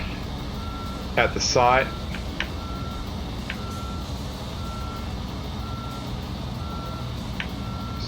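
Reversing truck in the Construction Simulator Europe game gives a short series of steady high beeps at a construction site, with someone talking over the start and quieter repeated beeps continuing through the engine hum.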